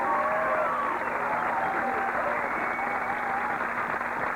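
Audience applause fills the room in a steady, dense wash of clapping that holds evenly from start to finish with no voices over it.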